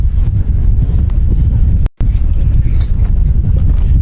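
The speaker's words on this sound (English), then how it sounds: "do we have ourselves a windy afternoon, windy evening here in Fort Worth" Wind buffets the microphone outdoors at a TCU versus Oklahoma college lacrosse game in Fort Worth on a windy afternoon, a steady loud low rumble that runs throughout with one abrupt brief dropout near the middle.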